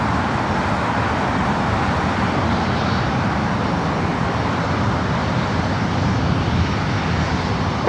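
A jet airliner roars down runway 24 right at LAX on takeoff, a loud, dense, unbroken engine thunder filling the whole stretch.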